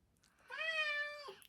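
A cat named Sherlock gives a single clear, drawn-out meow lasting under a second, close and fairly loud in a quiet room.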